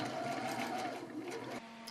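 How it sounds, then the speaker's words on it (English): A sewing machine stitches a sleeve onto a sari-made Sharara outfit, a steady, soft mechanical whir running continuously before shifting pitch near the end. "So here we'll be sewing the sleeve in."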